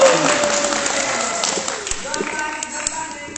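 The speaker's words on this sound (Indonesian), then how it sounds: "iya, tepuk tangan dulu." Applause from students at an Islamic boarding school quiz competition, a steady wash of clapping and crowd noise in a reverberant hall, heard alongside a voice over a loudspeaker.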